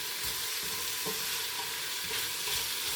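Onions sautéing in oil in a pot hiss in a steady, dense sizzle with faint stirring scrapes, close and even throughout, with no voices.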